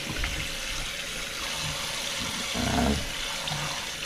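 Tap water running steadily into a basin to soak frozen tilapia, a continuous close splashing rush that swells briefly louder near the end.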